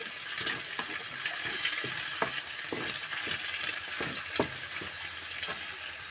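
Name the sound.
cracked egg frying in pan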